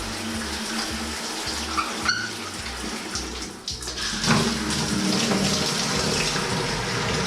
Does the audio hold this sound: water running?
yes